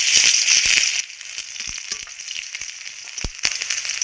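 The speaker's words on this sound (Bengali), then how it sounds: "তাতে দিয়ে দিলাম পাঁচফোড়ন পাঁচফোড়নটা হয়ে যাওয়ার পর দিয়ে দিচ্ছি বেশ কিছুটা পরিমাণ গ্রেট করা রসুন" Grated garlic sizzles in hot oil with panch phoron, a steady bright crackle with scattered sharp pops that eases slightly after the first second, close and with no voices.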